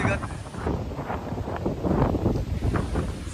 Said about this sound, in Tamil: காத்தடிக்குது.